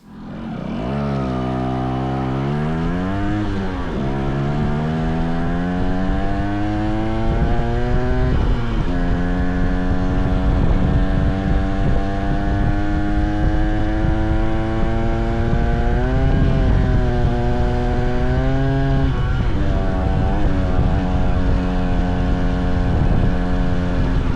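A Yamaha FS1E DX moped's small two-stroke engine revs up repeatedly through its gears, pitch climbing and dropping with each shift, loud and close for the whole stretch with no talking.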